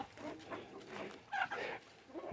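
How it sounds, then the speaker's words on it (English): Chickens clucking and a rooster calling in a chicken run, faint and close, a short run of broken squawks and clucks. "Oh, roosters."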